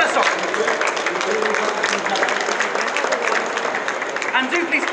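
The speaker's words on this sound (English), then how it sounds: "Big round of applause for the executive chef of the Hilton," An audience at a food festival's Tarragon Theatre stage applauds the Hilton's executive chef, a broad continuous wash of clapping that holds steady throughout while someone talks over it.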